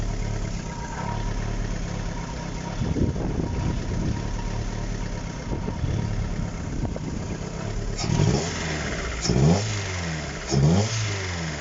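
A car with a giant hole in its exhaust idles roughly in a driveway, then is revved in three sharp bursts near the end, each rising and falling back to a loud, raspy, rumbling idle.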